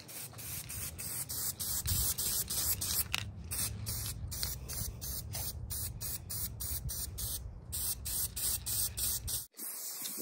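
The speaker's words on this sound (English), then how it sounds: "when spray painting, you just want to do short bursts" Spray paint hisses from a can onto a tumbler in a series of short, sharp bursts separated by brief gaps, close and fairly loud, with no talking.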